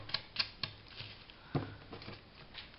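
Paper is trimmed while finishing handmade envelope ephemera folders. A few quiet, crisp snips and clicks come close up, irregularly spaced over a few seconds.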